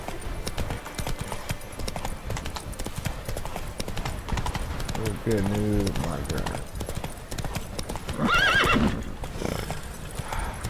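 Horse hooves clip-clop steadily along a road in the video game The Witcher 3, with a neigh or whinny breaking through near the middle and again toward the end, under someone talking.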